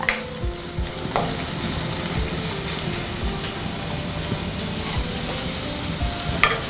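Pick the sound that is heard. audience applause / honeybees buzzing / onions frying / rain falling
onions frying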